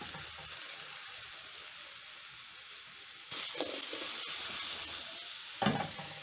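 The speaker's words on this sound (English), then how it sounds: "So as my potatoes are cooking" Breakfast potatoes frying in a pan give a continuous bright sizzle and hiss that grows louder partway through, with a short clatter near the end; no one speaks.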